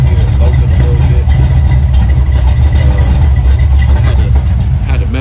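A Chevy LS V8 swapped into a 1971 Cutlass, fitted with a small cam, idles steadily with a deep, loud low rumble and a slightly uneven lope throughout, while a voice talks over it.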